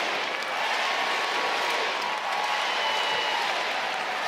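A crowd of about thirteen thousand fills a basketball arena at a Perth Wildcats–Adelaide 36ers NBL game, sustaining a dense, even wash of cheering and clapping throughout.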